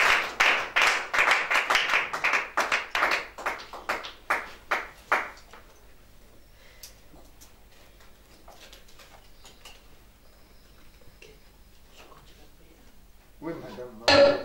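A church congregation claps in a quick, steady rhythm for about five seconds while acclaiming Jesus. The clapping then drops to a quiet room with scattered faint sounds, and a brief burst of voices or noise comes at the end.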